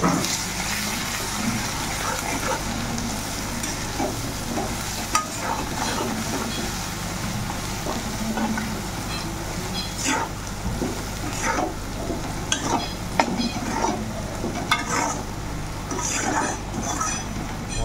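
Spices including turmeric and Kashmiri chili powder sizzle and fry in a pan while being stirred for a Bengali kachur loti with dried shrimp dish, with irregular scraping strokes over a constant sputtering hiss.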